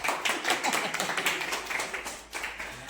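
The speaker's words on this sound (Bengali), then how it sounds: "হাততালি হাততালি হাততালি।" A small group of people claps in quick, uneven bursts during a lively party game, with sharp, close hand claps continuing for a few seconds.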